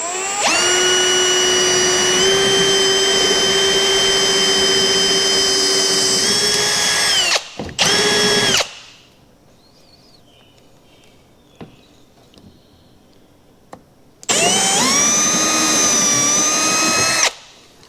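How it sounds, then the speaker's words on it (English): A power drill bores through the plastic fender flare of a Honda Pioneer 1000 side-by-side in two loud, sustained bursts of steady whine, the second bit spinning up after a quiet pause. "So what I did is I just drilled me a hole."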